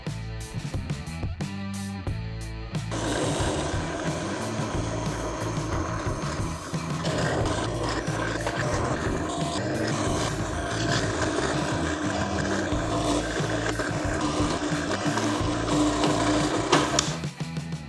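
Continuous mechanical whirring and grinding from a power drill boring the 16 holes through steel home gym uprights, loud and steady throughout with a brief rattling start.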